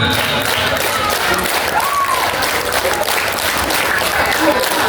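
Students at an Islamic junior high school Ramadan program clap together in a dense, steady burst of crowd applause that fills the whole stretch at close range, with faint voices mixed in.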